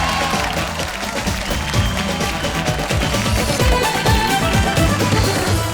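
A studio audience at a Hindi TV comedy show gives steady, sustained applause and some cheering for comedian Gaurav Sharma.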